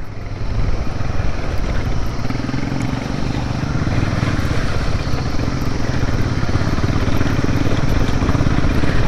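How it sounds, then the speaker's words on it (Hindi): A Honda CB350 motorcycle engine thumps with a steady, loud, close rumble that holds throughout without letting up. "क्या मस्त साउंड आ रहा है ना बाइक से"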